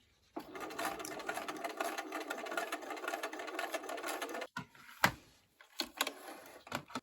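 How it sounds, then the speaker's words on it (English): A sewing machine stitches a short seam across quilt fabric for a star sampler block, running as a steady close whir for about four seconds, then giving way to a few sharp clicks and handling knocks. "put it back in the sewing machine. I want to close up that gap, so I'm going to stitch about a thread over"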